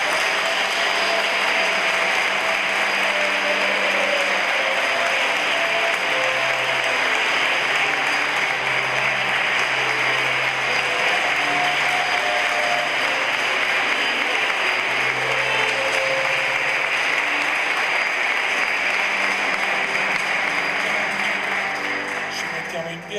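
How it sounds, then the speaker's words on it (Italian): Guests at a church wedding ceremony applaud in a long sustained round of clapping lasting over twenty seconds, loud and even throughout, with faint voices mixed underneath. "Facciamo un applauso."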